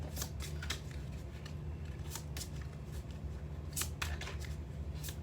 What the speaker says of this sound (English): I'm just going to shuffle once and then pull the top card